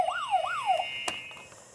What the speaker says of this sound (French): Prenez vos buzzers.